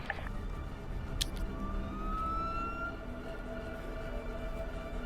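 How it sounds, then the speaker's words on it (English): A video game police car siren wails faintly from a distance over a low, steady rumble of engine noise, its pitch sliding upward in a thin line. "So, this is the button for the siren"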